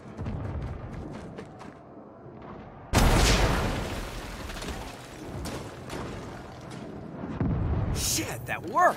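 In the video game Saints Row, a cannon fires a rocket with a sudden loud boom that decays into rumbling, followed later by another burst of noise.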